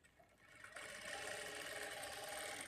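A sewing machine runs steadily while stitching the dart on a blouse lining, a fast even mechanical whir and needle chatter close by that picks up speed and then holds at a constant hum.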